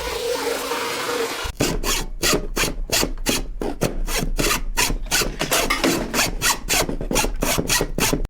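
A wooden workpiece is cut with a hand saw after a quiet start, loud and close, in a steady back-and-forth rhythm of rasping strokes repeating roughly every third of a second until it stops.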